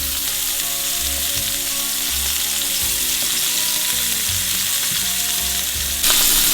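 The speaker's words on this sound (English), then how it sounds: "So you don't want to cook them on here, you just want to get a nice sear." Wild pork chops searing in a hot pan, a loud continuous close sizzle with a low rumbling hum beneath, jumping louder near the end.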